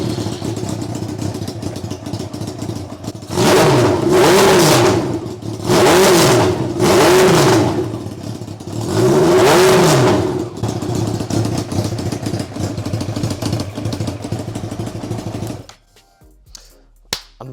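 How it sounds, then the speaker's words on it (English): A kei truck bike engine idles with a steady clattering chug, then is revved hard four times in close succession, each rev rising and falling, before settling back and shutting off near the end. "give it a quick rev just to show you how insane it sounds"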